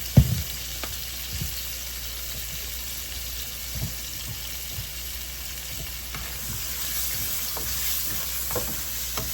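Seasoned salmon pieces with taco seasoning and lemon pepper being tossed and mixed by hand, soft scraping and stirring clicks over a steady background hiss, close and fairly quiet.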